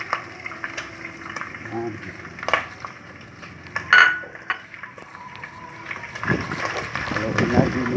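Shrimp going into a pan of browned aromatics for a sautéed chayote dish, then stirred, with soft sizzling, metal spoon clinks and scraping against the pan while a person talks.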